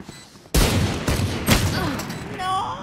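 Gunfire in the tactical shooter Valorant, a loud burst of rapid shots erupting after a quiet start and continuing as repeated cracks, with voices shouting over the shooting.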